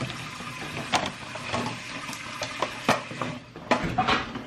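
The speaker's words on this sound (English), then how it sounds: "wash these strawberries off" Strawberries rinsed under a running kitchen tap, a steady broadband splash with occasional clinks and knocks of dishes or a bowl, close and moderately quiet, no talking.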